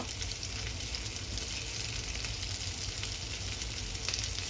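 Salted salmon sizzles on a grill, a close, steady crackling hiss with faint pops that continues evenly throughout without talk.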